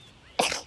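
A single sharp sneeze from a person outdoors on a walk under a tree, bursting out suddenly and close after a quiet stretch, loud and brief with a breathy tail.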